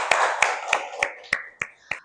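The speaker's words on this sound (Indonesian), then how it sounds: "Berikan tepuk tangan untuk teman kita." Seven separate hand claps ring out at an even, unhurried pace in a classroom as a classmate is applauded, each clap sharp and fairly close, fading slightly toward the end.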